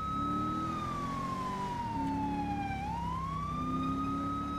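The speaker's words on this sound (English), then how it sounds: "I'm turning the siren back on" A police car siren wails in the LSPDFR game, set on a 2019 Dodge Charger patrol car, its pitch sliding down and then sweeping back up in one steady tone that carries through the clip at moderate volume with no talk.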